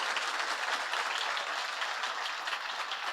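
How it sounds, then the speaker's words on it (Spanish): A church congregation claps together in a steady, even wash of applause, fairly distant and soft, with no voices over it. "si lo va a aplaudir, por favor, apláudala fuerte al Señor"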